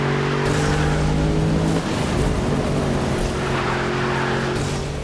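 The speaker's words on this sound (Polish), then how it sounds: "Mustang zdaje się bardzo fajnie wchodzi w zakręty, fajnie driftuje." A 2015 Ford Mustang GT in the racing game NFS Rivals holds a steady, loud engine drone with a brief shift in pitch midway, with tire noise underneath as the car drifts through corners.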